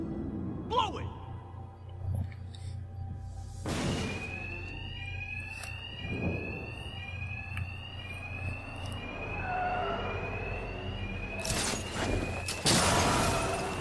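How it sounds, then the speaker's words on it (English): An electronic alarm rings steadily in the background of the video game Batman: Arkham Knight, with repeating tonal sweeps, while people talk over it and occasional bursts of noise cut through. "won't hear me over the alarm"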